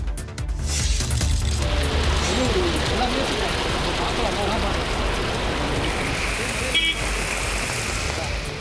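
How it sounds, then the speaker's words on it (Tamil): Heavy monsoon rain pours steadily on flooded roads in Pandalur, Nilgiris, a dense, continuous close roar of water with faint traffic underneath, and no talking. "நீலகிரி மாவட்டம் பந்தலூரில் வெளுத்து வாங்கிய மழையால் சாலைகள் ஆறு போல மாறிய காட்சிகளே இவை"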